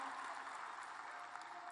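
Brief, continuous applause from a campaign rally crowd in Toledo, a uniform roar of many hands at moderate distance with no voices standing out.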